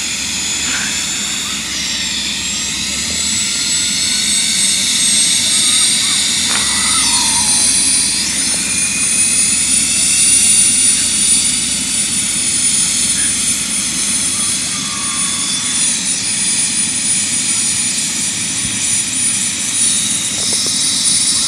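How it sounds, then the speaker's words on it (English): A life flight medical helicopter lifts off nearby, its loud turbine whine and thumping rotor holding steady and strong for the whole stretch, with no talking. "this is a life flight takeoff"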